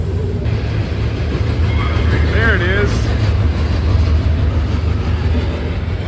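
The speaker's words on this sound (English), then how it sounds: "This is a long coal train." A long coal cargo train rolls past nearby with a steady, continuous low rumble and grinding that never lets up, while a person talks briefly over it.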